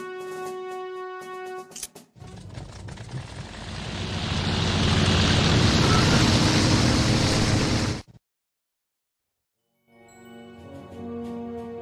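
A WWI fighter's propeller engine drones while escorting a bomber in the flight game Wings! Remastered, the steady roar swelling louder before cutting out abruptly, bracketed by short musical chimes.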